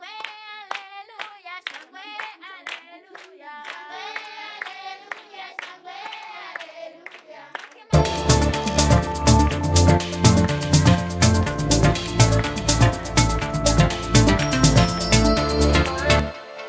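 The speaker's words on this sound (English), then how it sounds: "I've moved some of these claps into time because they were off the grid by quite a lot" Layered clap samples, nudged onto the grid, sit in an Afro house beat: crisp, reverberant claps at first over a sparse backdrop, then a dense full mix of drums and synths pounding steadily for the rest.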